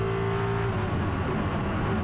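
A race car at the Imola circuit powers out of a chicane on an uphill stretch, its engine note loud, close and continuous with a steady droning tone throughout, no voices present.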